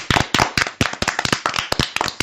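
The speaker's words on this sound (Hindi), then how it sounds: "तो बच्चों एक बार फिर से तालियां बजाओ।" Children clap in a brisk, uneven burst of sharp, close hand claps that come in quick clusters for about two seconds, with no one talking over them.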